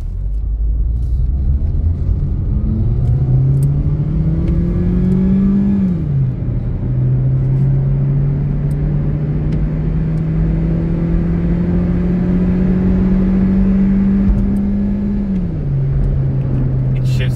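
A 2019 Proton Saga 1.3 automatic with its engine revved hard toward the red line, a loud, steady drone climbing in pitch, dropping briefly at a shift, then rising again before easing off near the end.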